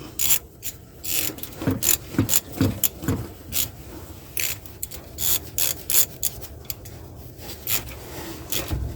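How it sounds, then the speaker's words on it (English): A wrench ratchets on the brake bolts of a Chevy Equinox, with rapid bursts of metallic clicking in an irregular rhythm, close and fairly loud, broken by short pauses. "put a wrench to it, put the proper torque on it"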